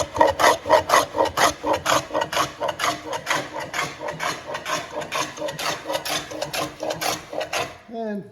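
A Stanley 45 combination plane cuts a groove in wood with about two dozen quick, evenly spaced rasping strokes, close and distinct, ending abruptly near the close.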